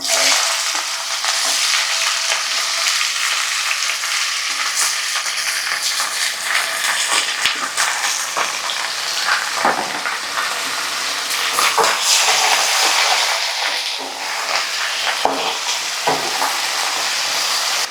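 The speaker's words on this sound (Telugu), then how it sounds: "ఇప్పుడు కట్ చేసి పెట్టుకున్న దొండకాయలు వేస్తున్నాను." Chopped ivy gourd frying with curry leaves in a pan, giving a continuous loud sizzle with occasional stirring scrapes and clinks, no talk.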